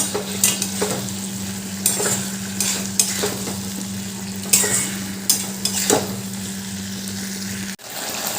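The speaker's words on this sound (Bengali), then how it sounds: "এবার এই ভেজে রাখা চিকেনের পকোড়াগুলোও দিয়ে দিলাম আবার ভালো করে মিশিয়ে নেব" Fried chicken pakoras sizzle in chilli chicken sauce, stirred with a spoon that scrapes and clinks against the pan in irregular bursts over a continuous close frying hiss, which cuts off abruptly near the end.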